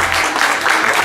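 Steady applause from an audience after the performers finish, during a music video shoot: a dense, even wash of many hands clapping at close range, with no voices over it.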